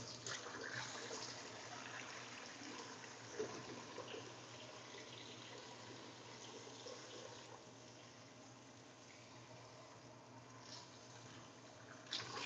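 A kitchen tap runs steadily into a sink during washing, a soft, continuous water flow heard alone at low volume with a few small splashes.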